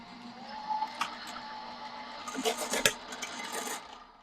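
A Gemini Junior die cut machine feeds patterned paper through its rollers with soft grinding and rubbing sounds, quiet and close, punctuated by a few small clicks and a louder knock midway.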